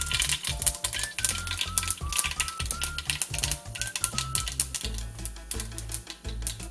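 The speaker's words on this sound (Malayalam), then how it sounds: "എണ്ണ ചൂടായി കഴിയുമ്പോൾ അതിലേക്ക് കടുക് ഇട്ട് കൊടുക്കാം." Mustard seeds crackling in hot oil for a Kerala-style prawn and mango curry, a rapid, dense run of sharp pops and ticks, fairly loud and close throughout.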